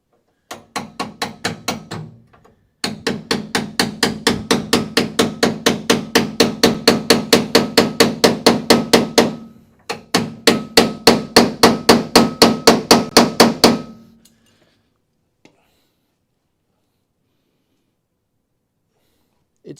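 A hammer strikes a chisel over and over against rusty metal on a Dodge crew cab truck in a shop, with rapid, loud, evenly spaced metallic blows in three bursts and short pauses between them, ending in quiet.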